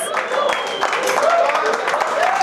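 An audience at an actors' cricket bash applauds the team in a continuous, dense wash of clapping, while a host keeps talking over it.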